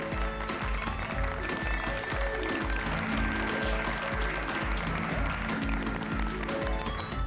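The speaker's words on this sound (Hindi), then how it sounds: "ये तो अभी से ही तालियां बजा रहे हैं" An audience in a residential society setting claps continuously at a steady level, with rhythmic music or beats running underneath.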